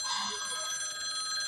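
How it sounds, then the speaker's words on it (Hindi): A telephone rings in a home, its bright electronic trill repeating steadily across the whole moment, moderately loud with no voices over it. "उठा लो ना फ़ोन"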